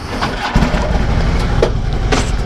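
A retired police motorcycle engine fires up and settles into a loud, close, rumbling idle, with a few sharp clanks over the steady running.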